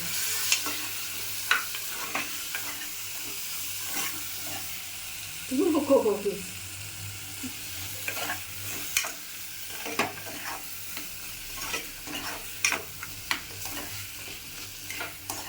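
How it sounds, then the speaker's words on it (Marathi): Vegetables for peas rice are stirred into masala in a pan, making a soft sizzle broken by repeated scraping and clinking spoon strokes, with a brief muffled voice-like sound in the middle. "ही भाजी आपण त्या मसाल्यामध्ये मिक्स करू."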